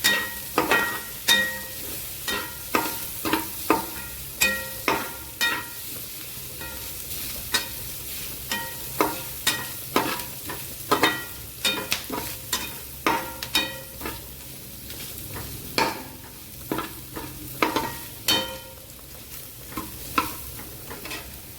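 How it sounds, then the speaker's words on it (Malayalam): Garlic, onion and curry masala fry in oil in a pan for a chicken curry, a steady sizzle broken by frequent sharp scraping strokes of a spoon stirring in a quick, irregular rhythm, close and clear with no talking. "ഇതെല്ലാം കൂടെ നമുക്ക് ഇതിൽ മൂപ്പിച്ചെടുക്കാം"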